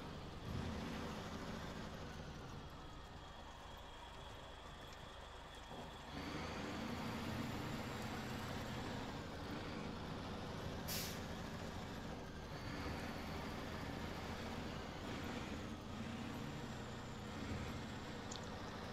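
Heavy truck in the SnowRunner video game, with a low steady engine drone that steps up in loudness partway through and a brief bright hiss of the air brake released near the middle.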